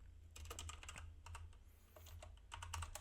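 Rapid keystrokes clatter on a computer keyboard in short, irregular bursts with brief pauses, quiet and close over a low steady hum, with no talking.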